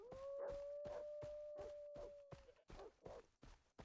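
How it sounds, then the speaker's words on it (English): Dogs in Far Cry 3 howl in a long, wavering, rising cry, with rhythmic thumping footsteps and short snarling yelps close by as they attack. "I'm always like getting attacked by dogs."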